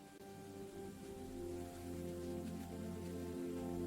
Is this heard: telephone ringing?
no